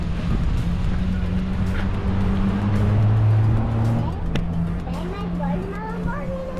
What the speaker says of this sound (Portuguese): Barulho igual da Lamborghini, né, Belinha?